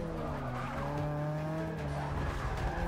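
Car tires squeal in a long, wavering drift in Forza 6, involving a Mazda Miata, over a steady engine drone. The sound is moderately loud and continuous for the whole stretch.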